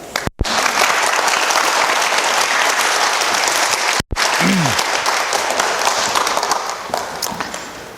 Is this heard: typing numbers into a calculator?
no